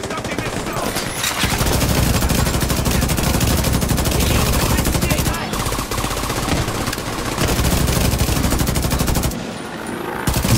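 Gunfire from a weapon in the video game The Division 2: rapid automatic bursts that sound loud and close and run almost without a break, with short pauses between volleys.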